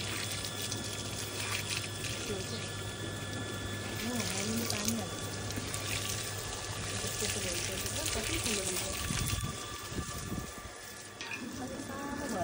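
Water is poured and sprayed onto the walls of a newly built house, giving a steady hiss and splash throughout with people talking in the background.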